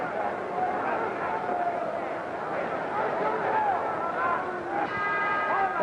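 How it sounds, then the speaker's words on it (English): A boxing ring bell ends round nine of a 1961 light heavyweight championship bout at Madison Square Garden, ringing briefly near the end beneath a steady crowd roar and a commentator's voice. "There's the bell."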